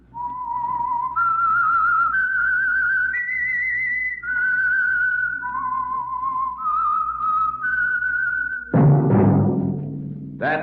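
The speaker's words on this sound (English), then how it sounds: "That whistle is your signal for the Signal Oil Program" A clear, close whistle carries a slow melody of sustained notes stepping up and down, the theme of the radio mystery program The Whistler, followed by a brief burst of orchestral sound.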